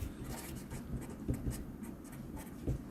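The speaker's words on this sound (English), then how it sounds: "Let me write that down." Pen or pencil scratching across paper while working out a matrix math problem, a steady soft scraping with short strokes and taps, close and fairly quiet, with no talking.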